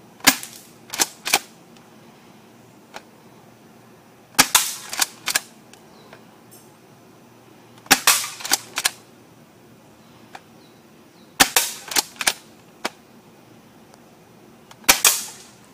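A UTG M3L triple-barrel airsoft shotgun fires at cans in bursts of sharp snapping pops, about four or five volleys of quick multiple cracks spaced a few seconds apart, each followed by faint clinks, with no talk.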